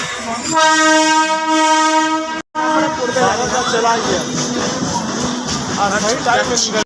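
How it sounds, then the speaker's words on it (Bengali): A train horn blares with a long steady tone, then cuts off; afterward the busy clatter of Dum Dum station platform continues with crowd chatter and background music playing songs. "চলে আসলাম দমদম স্টেশনে"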